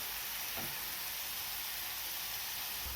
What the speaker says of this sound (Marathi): हा मसाला आपल्याला एकदम छान भाजून घ्यायचा आहे.